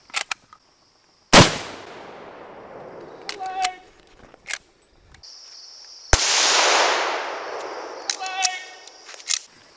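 Two sharp gunshots fired into a pile of gravel, each a loud crack with a long ringing decay, spaced a few seconds apart outdoors, with brief clatter and faint voices in between.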